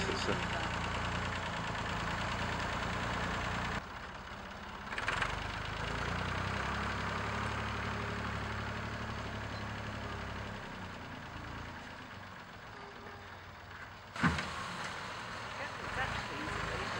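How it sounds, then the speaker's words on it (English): An old Massey Ferguson tractor fitted with a front shovel runs at a steady idle, a low continuous engine drone that continues throughout with a few brief knocks and clunks, working outdoors while clearing ground at a nature reserve. "The trusty old Massey, now fitted with a shovel, still comes in handy though."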